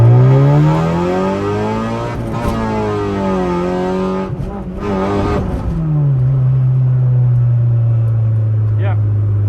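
A Honda Civic engine pulls hard from first gear, its pitch climbing steadily, then dropping at a shift and settling into a lower, steady drone heard from inside the car.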